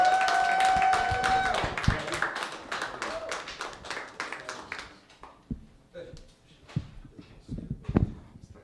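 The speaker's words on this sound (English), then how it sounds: "with a big round of applause, help me welcome Kobe Durst." A comedy club crowd at an open mic stand-up night claps to welcome a comedian, a loud burst of applause that thins out into a few scattered, separate claps and quieter room noise.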